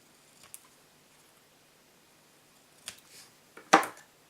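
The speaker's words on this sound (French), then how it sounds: "je vais venir le découper" Paper cut with scissors while making a smocked card: a couple of faint snips early on, then a sharper, louder crisp cut near the end, close up in a quiet room.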